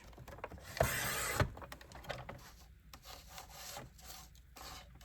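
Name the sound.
trimming paper cards along the edge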